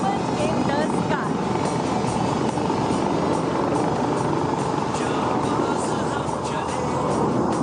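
Aerobatic team aircraft flying in formation over an air show in Bengaluru, a loud, steady engine roar that fills the whole stretch without a break.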